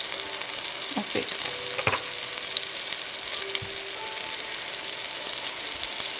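Ground turkey seasoned with a little cayenne sizzles and sears in a hot pan, a steady close crackling hiss with a few scraping stirs and clinks.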